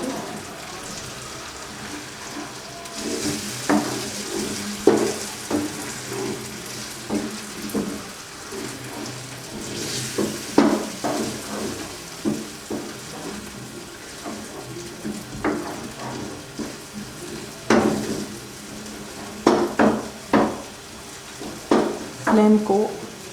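Beaten egg mixture cooks in a pan, with a low sizzle under repeated clacks and scrapes of a spatula stirring, irregular taps coming in clusters over a quiet background.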